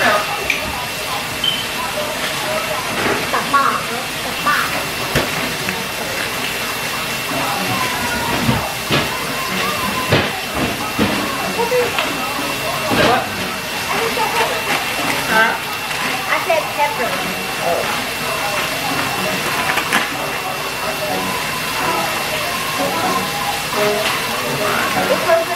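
Shrimp sizzles in a pan on a home stove, a steady hiss with small crackles running under ongoing talk between people.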